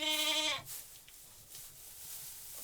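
Sheep on a small livestock farm give one loud, close, wavering bleat that breaks off abruptly, followed by quiet outdoor background noise.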